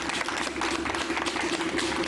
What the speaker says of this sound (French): on l'applaudit ça